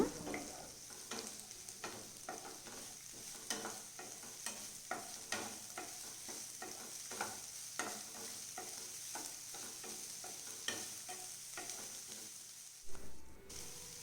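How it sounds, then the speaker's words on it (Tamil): Two medium chopped onions sautéing in a pan, with a constant faint sizzle and a quick run of rhythmic spatula scrapes and taps that continues throughout. "2 மீடியம் சைஸ் வெங்காயத்தை கட் பண்ணி அதையும் சேர்த்து வதக்கிக்கோங்க."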